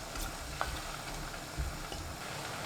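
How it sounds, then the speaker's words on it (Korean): Garlic cooks over high heat in boiling soy-based seasoning, giving a steady quiet sizzle and bubbling with a few faint clicks of a utensil against the pan. "양념이 바글바글 끓으면 마늘 넣고 센 불로 익혀주세요."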